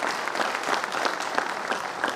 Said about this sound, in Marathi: जोरदार एकदा टाळ्या वाजून त्यांचं अभिनंदन करायला पाहिजे